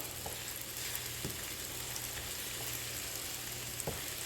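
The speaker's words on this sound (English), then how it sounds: "at this point your egg was fried nicely" An egg fries in a pan for vegetarian fried rice, giving a steady low sizzle with a few soft scrapes as it is turned, close and even throughout.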